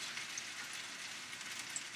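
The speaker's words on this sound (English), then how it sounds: "That little sizzling is because I spilt a little bit." Soft, steady crackling sizzle with faint popping as a little spilled chicken and broccoli cheddar pot pie filling fries on a hot surface, continuous and fairly quiet.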